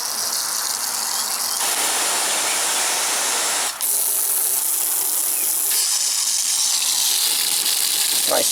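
Water spraying from the nine-function nozzle of an expandable garden hose, a loud continuous hiss that shifts character in distinct steps as spray patterns change, with clicks between settings.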